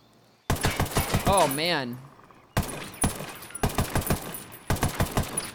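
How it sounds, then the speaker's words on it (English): Bursts of automatic fire from a 556xi assault rifle with optics in Ghost Recon Wildlands, rapid cracking shots in three separate strings with short gaps, loud and close, and someone briefly talks over the first burst. "Now let's fire it with this optics on it."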